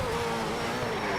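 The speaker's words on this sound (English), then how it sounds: "At least you can hear the sound of the engine of the Porsche Spider. Sounds very powerful." A Porsche Spyder's engine roars in the racing game Need for Speed Shift 2: Unleashed, a loud sustained drone with a slowly falling pitch, continuous and close.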